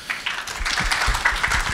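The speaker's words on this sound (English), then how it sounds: "So let's give an applause." Light, scattered clapping from a small audience at a conference opening, a handful of distinct claps spread unevenly through a short burst.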